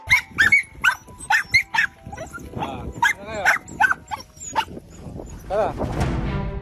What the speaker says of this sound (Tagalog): Yun ang kanilang pinag-aagawan, nag-aaway-away pa yung tatlong aso